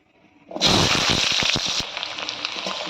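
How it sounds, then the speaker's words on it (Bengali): Potatoes tipped into hot oil already seasoned with bay leaf, dried chilli, black cumin and whole garam masala: a sudden loud sizzle bursts up, then settles into a steady hissing crackle close by. "আলুটা ভেজে নেব"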